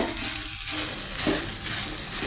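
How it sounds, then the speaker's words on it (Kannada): Soya chunks frying in hot oil in a pan give a continuous, fairly loud sizzle, broken by light scraping and stirring noises, with no talking. "ಎಣ್ಣೆ ಹಾಕ್ಕೊಂಡು ನೋಡಿ ತೊಗೊಂಡಿರೋಂಥ ಸೋಯಾನ ಫ್ರೈ ಮಾಡ್ಕೊಳ್ಬೇಕು"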